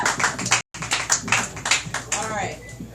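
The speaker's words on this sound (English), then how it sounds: "One more round of applause for Mr. Speaker." Brief scattered clapping from a small audience at a poetry open-mic event, broken by a short gap, with voices talking over it.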